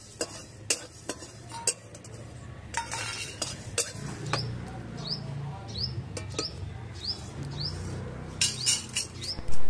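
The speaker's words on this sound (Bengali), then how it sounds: "এগুলোকে খালি কড়ায় হালকা করে একটু ভেজে নিতে হবে।" Cumin, coriander seeds, peppercorns and dried chillies dry-roast in an empty wok, with repeated metallic scrapes and clinks of a spatula stirring them, loud and close, and no talking.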